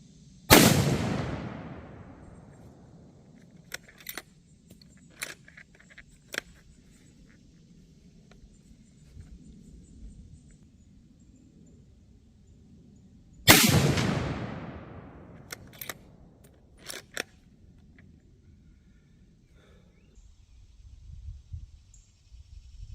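Two loud rifle shots from a Ruger American bolt-action in .270 Win, fired at a target 100 yards away outdoors. Each sharp crack is followed by a long booming decay, and smaller clicks and knocks fall between the shots.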